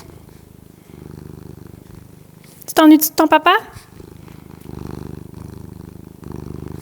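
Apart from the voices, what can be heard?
cat purring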